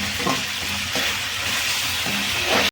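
Chicken fries loudly in a pan, a dense, steady sizzle broken by rhythmic scraping strokes as it is stirred, ending abruptly.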